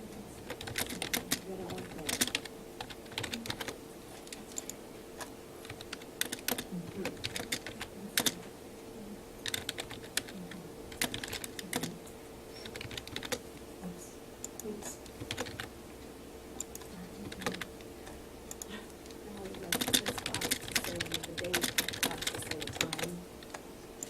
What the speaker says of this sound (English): so I typed it in